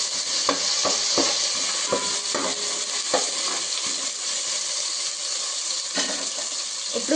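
Ginger garlic paste frying in oil for egg biryani, a bright continuous sizzle with sharp clicks and scrapes of stirring throughout.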